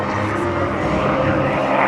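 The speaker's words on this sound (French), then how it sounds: "Qui est en train de prendre de l'altitude en grimpant dans le ciel dans le mugissement d'un moteur de 12 cylindres en V de 1200 chevaux" A Yakovlev fighter plane with a 1200 hp V12 engine climbs into the sky, its engine roaring in a steady, loud, unbroken drone.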